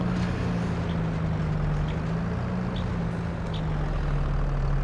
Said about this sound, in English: Oh, this tractor's a beast.